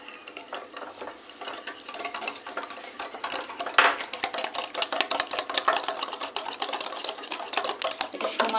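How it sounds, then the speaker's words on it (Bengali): Sugar and white oil beaten together for cupcake batter, a steady, fast scraping and clicking of the whisk against the bowl that carries on without a break, close and fairly loud. "এবার এটাকে অনেক ভালো করে ফাটাতে হবে"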